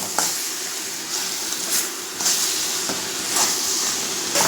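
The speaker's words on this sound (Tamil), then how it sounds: "கொஞ்சம் வதங்கட்டுங்க." Vegetables with chilli powder, salt and masala sizzle and sauté steadily in a pan for masala bread, giving a continuous frying hiss broken by a few soft stirring scrapes, close and loud, with no voices.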